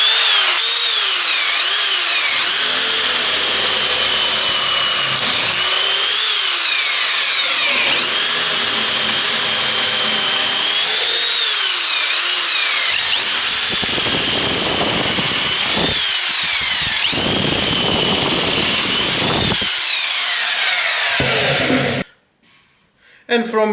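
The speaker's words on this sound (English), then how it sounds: "And let's drill a wood." A Black & Decker BDHD500 corded hammer drill with a keyless chuck bores through wood. It makes a loud, continuous motor whine that wavers as the bit bites, then cuts off abruptly near the end.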